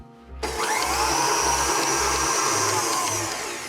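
An electric stand mixer fitted with a paddle whirs steadily at high speed whipping buttercream, starting abruptly and holding a loud, even motor whine over a faint rhythmic low thump, with no talking.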